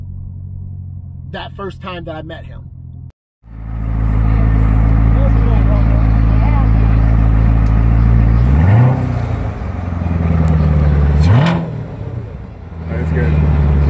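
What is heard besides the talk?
Corvette C7 Z06 engine revving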